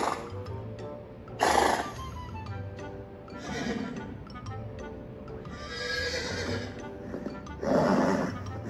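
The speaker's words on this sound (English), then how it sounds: "how does a horse sound?" A horse neighs in several loud whinnies spaced across the stretch, each a rising, shaking call, with softer snorts and hoof clip-clop in between.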